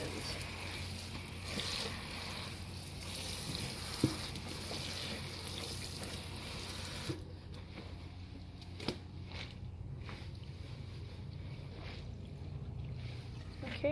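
Vintage clothing rinsed by hand in water: a steady wash of sloshing and splashing throughout, close and fairly loud, easing to softer swishing with a few light drips and knocks in the second half.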